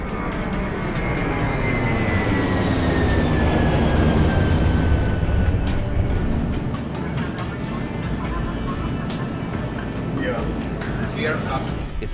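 Airbus A380 jet on its takeoff roll, a loud continuous engine roar with a slowly falling whine, steady and close throughout, with narration running over it.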